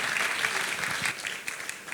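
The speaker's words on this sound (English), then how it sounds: "let's give a round of applause to Pastor Ben still." Audience applause at a church-hosted macroeconomic outlook event, a steady dense clapping from a crowd throughout, fairly loud and without talk.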